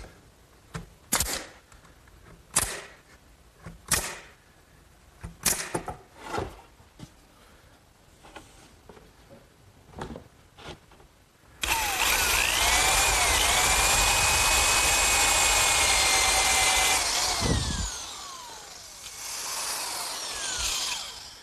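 A series of sharp pneumatic nail gun shots fire into wood at irregular intervals in a woodworking shop, followed by a loud, sustained whine of a power tool that cuts off.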